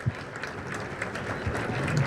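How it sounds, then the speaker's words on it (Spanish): Audience applause for the panelists at a panel session on strategic litigation and public-interest actions, a soft, diffuse patter of many hands clapping at moderate distance for about two seconds. "Vamos a darle un fuerte aplauso a nuestros panelistas."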